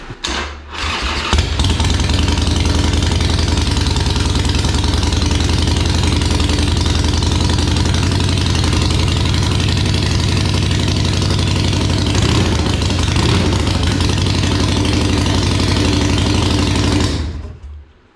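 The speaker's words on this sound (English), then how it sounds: "the exhaust is installed. O2 sensors connected. Start it up, see what it sounds like." A loud Harley-Davidson Iron 883 engine with a new exhaust fires up and idles with a deep, throbbing rumble, steady and close, before cutting off near the end.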